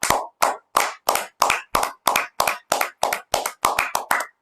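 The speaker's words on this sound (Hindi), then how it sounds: "प्लीज तालियां बजाइए यार, खुद के लिए बजाने तालियां" Participants at an online public speaking competition result declaration clap for themselves: about fourteen sharp, evenly spaced hand claps in a steady rhythm, loud and close, with no talk over them.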